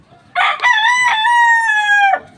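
A rooster, a gamecock, crows once, loud and close, a long drawn-out call that rises, holds and then falls off, with quiet around it.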